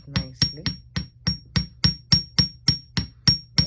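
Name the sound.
hammering wire for earrings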